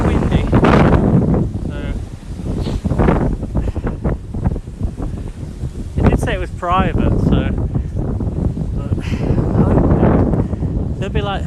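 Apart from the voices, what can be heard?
wind blowing in winter woods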